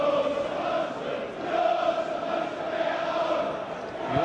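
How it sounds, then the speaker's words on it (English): Tottenham fans chant in a sustained, droning roar at Tynecastle stadium during a Hearts versus Tottenham football match, with many voices blending into one steady, loud wall of sound throughout. "the voices we can hear inside Tynecastle at the moment are Tottenham voices"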